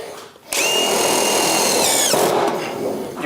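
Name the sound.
power drill drilling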